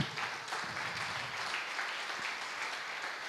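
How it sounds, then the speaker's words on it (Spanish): A church congregation claps together in sustained, dense applause that continues evenly throughout, heard from within the crowd at moderate volume. "Denle un aplauso al Espíritu Santo."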